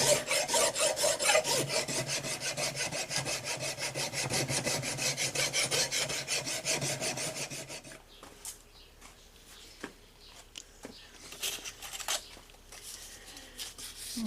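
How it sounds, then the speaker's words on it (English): A fillet knife blade is hand-sanded with 1000 grit sandpaper, a steady rhythmic rasping of close, rapid strokes for about eight seconds, then it stops and only faint scattered handling sounds and light taps remain. "I'm working this with 1000 grit now"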